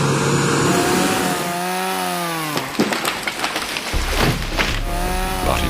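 A chainsaw used in industrial logging of bushland whines loudly, its pitch sweeping down and back up as it bogs into wood, followed by a stretch of rough cutting noise and crackle, no voices.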